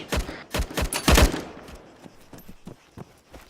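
Rapid bursts of rifle fire in a military shooter game battle at a factory: a cluster of sharp, loud shots in quick succession, then fainter scattered pops trailing off.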